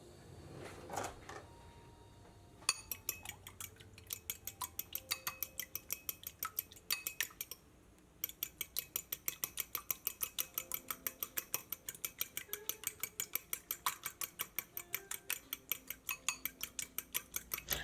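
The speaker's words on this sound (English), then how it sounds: "just mixing with a fork or a whisk" Fork beating eggs seasoned with salt and pepper in a bowl for a breakfast scramble, a steady fast run of close metallic clicks and taps against the bowl with a brief pause partway through, no talking.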